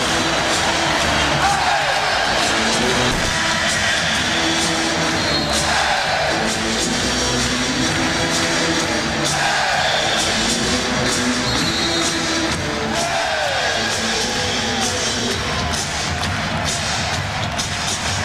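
Arena crowd at a 1992 Bulls vs Knicks playoff basketball game, a constant loud roar with rising swells of cheering and thumping bursts throughout.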